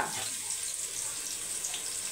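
Water poured into a hot cooking pan of tempered spices such as cloves while making jeera rice gives a steady, close hiss and sizzle with a running-water wash throughout, no voices.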